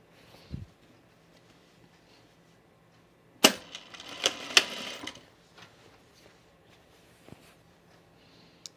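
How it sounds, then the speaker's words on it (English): A sewing machine stitches rug strips in a short, loud burst of rapid mechanical clatter about a second and a half long, surrounded by near-silence and a few faint knocks. "If I just sew over all of them with my same seam allowance"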